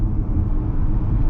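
Ford Mach-E GT electric car accelerating hard, a steady low rumble and road roar filling the cabin, loud and continuous with no engine note.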